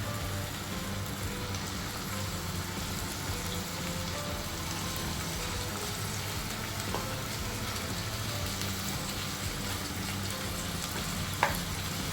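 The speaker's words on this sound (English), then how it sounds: "now I'll put it in a kadhai to fry." Salt-and-turmeric-marinated prawns fry in a kadhai with a steady, dense crackling sizzle that holds evenly throughout, broken by one brief sharper pop near the end.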